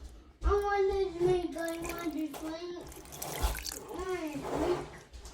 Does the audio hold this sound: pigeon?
no